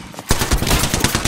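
Automatic gunfire in Apex Legends, with the Alternator and Flatline in play: a sustained loud burst of rapid shots kicks in after a brief quiet start and keeps rattling close up to the end.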